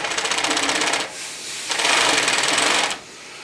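A serging machine stitching binding tape onto a carpet edge runs in two loud, fast-whirring bursts separated by a brief pause, ending with the motor cutting off.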